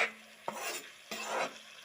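A spoon scrapes around a pan of Assamese egg curry as half-boiled eggs are stirred in, giving two soft, close scraping sweeps over a faint background.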